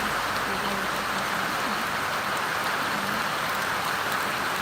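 Steady rain falls outside a house, a dense even hiss of drops on surfaces that fills the whole stretch, with faint voices murmuring underneath.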